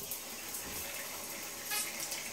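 Water streams steadily from a handheld shower and three body sprays in a multi-fixture shower, a continuous close hiss and splash with no pauses.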